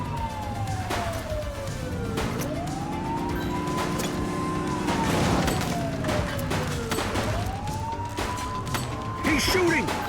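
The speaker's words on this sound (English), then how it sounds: "He's shooting!" Gunfire crackles in The Precinct, a police video game, in scattered sharp bursts beneath a loud wailing police siren that rises and falls, with a car engine rumbling throughout.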